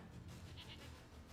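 A goat bleats faintly in the video game The Witcher 3: Wild Hunt, a short quavering call against a low, steady background hum.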